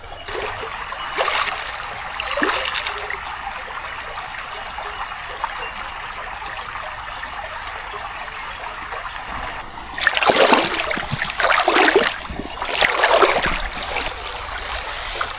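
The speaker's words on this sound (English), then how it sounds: "let's go check out the creek." A creek flows on a sunny first day of autumn, a steady nearby trickle and babble of water with louder splashing surges toward the end, no voices.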